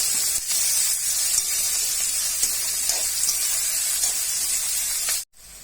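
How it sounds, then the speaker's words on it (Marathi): Chopped cabbage stir-fries in a hot pan for veg fried rice, giving a loud, steady sizzling hiss that runs continuously and close before cutting off abruptly at the end. "कोबी आपण कट करून घेतलेला आहे तो आपण यामध्ये टाकणार आहोत। आणि याला 2 ते 3 मिनिटं आपण परतून घेणार आहोत व्यवस्थित।"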